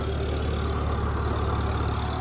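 A tractor engine idling in neutral with only the PTO gear engaged, a steady continuous low diesel drone with an even throb, close and unbroken, no voices.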